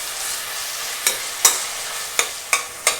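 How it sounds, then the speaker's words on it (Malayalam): Onions sizzle steadily in a hot pan as masala for chicken biryani, with a few sharp spoon scrapes and stirs knocking against the pan at close range. "നമ്മുടെ ഉള്ളി വഴന്നുകൊണ്ടിരിക്കുകയാണ്."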